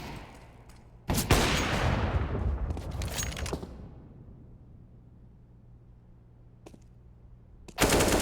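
Rifle and pistol fire in a Counter-Strike round on the Mirage map: loud bursts of shots near the start, a sharp volley around the middle, a quieter stretch with faint distant pops, then another loud burst at the end.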